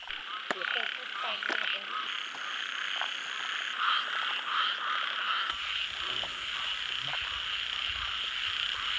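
Frogs croak steadily through a rural field at night, a dense, continuous chorus of overlapping calls with a shrill insect-like buzz above, held at an even level throughout.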